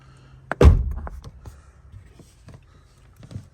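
A rear door handle on a 1998–2002 Honda Accord is pulled, giving a sharp click followed by a heavier mechanical clunk of the latch, then a few faint taps and rattles from the door.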